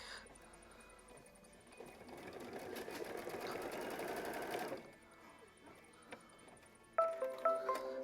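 A sewing machine stitches a quilt block, running steadily for about five seconds, then stopping, followed by softer handling noises and a few sharp clicks near the end.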